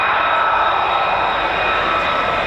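An F-35A stealth fighter with a large turbofan engine passes near RAF Lakenheath, a loud sustained jet roar that fills the air steadily with no voices over it.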